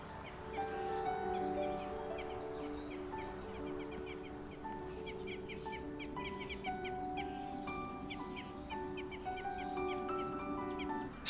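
A flock of about 15 crossbills calls in short, repeated chips and notes throughout, fairly close against a steady outdoor background on a frosty heath.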